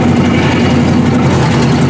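A full-frame metric GM car engine runs close and loud, a dense steady rumble with a throbbing idle and no pauses.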